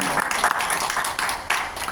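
A church congregation applauds during a Spanish-language Sunday morning service, dense continuous clapping filling the whole short stretch at close range.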